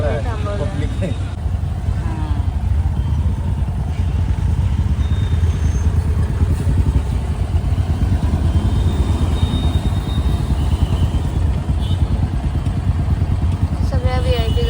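Heavy road traffic of VIP convoy vehicles rolling past on an Indian highway while other traffic is held back, a steady near engine rumble throughout with people talking over it.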